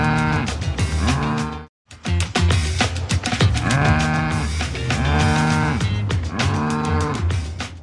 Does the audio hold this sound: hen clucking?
no